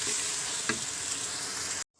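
Chilies cooking in a pan with a little added water, giving a steady, loud sizzling and frying hiss with a brief stirring scrape before it cuts to silence.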